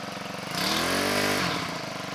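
A small two-stroke hedge trimmer engine idles steadily, its buzzing drone swelling briefly louder in the middle before settling back to a steady run.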